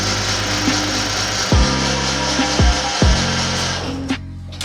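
A power tool grinds material from the inside of a BMW E36 exhaust pipe, a loud continuous whirring buzz broken by three sharp knocks and a brief pitch change near the end.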